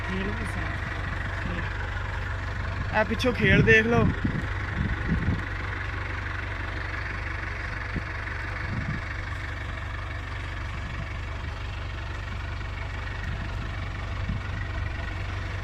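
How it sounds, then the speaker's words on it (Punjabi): A tractor engine idles steadily in the background, low and continuous, with someone speaking briefly over it near the start. "ਬਗੈਰ ਲੀਵਰ ਤੇ ਹੱਥ ਰੱਖਣ ਦੇ ਟਰੈਕਟਰ ਚੱਲ ਰਿਹਾ ਵਾ"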